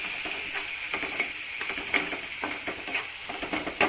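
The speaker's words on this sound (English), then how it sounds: "into this onions. I'll mix it very well" Onions with tamarind pulp stirred in a pan for chutney, a constant close sizzle broken by repeated scraping strokes of the spoon.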